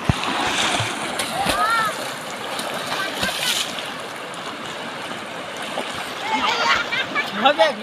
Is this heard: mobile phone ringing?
no